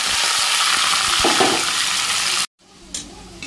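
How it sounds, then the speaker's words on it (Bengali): Onions with salt and slit green chillies fry in oil in a kadai with a loud, dense sizzle and some stirring. The sound cuts out abruptly near the end, then returns more quietly. "পেঁয়াজটাতে একটু নুন দিয়ে দিয়েছিলাম নরম হওয়ার জন্য, আর চেরা কাঁচা লঙ্কা দিয়ে পেঁয়াজটা ভেজে নিয়েছি।"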